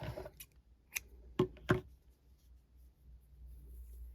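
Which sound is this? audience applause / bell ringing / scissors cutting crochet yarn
scissors cutting crochet yarn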